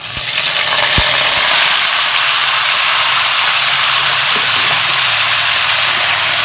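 Duck meat hitting hot oil with a little fennel seed, a steady loud broadband sizzle and hiss that holds evenly throughout, with a brief knock near the start.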